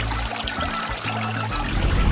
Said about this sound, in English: A shower is just the thing to help fix you up.